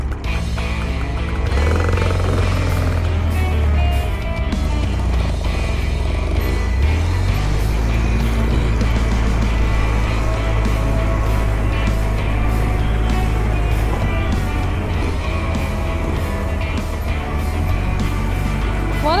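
An ATV rides along a trail through burned forest after a controlled burn, its engine droning loudly and steadily up close with shifts in revs as it moves along.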